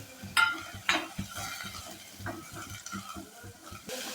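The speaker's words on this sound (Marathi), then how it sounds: "यामध्ये आपल्याला ही बारीक चिरून घेतलेली स्वच्छ धुवून घेतलेली अशी मेथी घालून परत मिक्स करून घ्यायचं आहे" Chopped, washed fenugreek leaves are stirred and tossed in a pan. A spoon scrapes and turns them in a close, repeated rhythm over a soft sizzle, with a couple of sharper clinks against the pan.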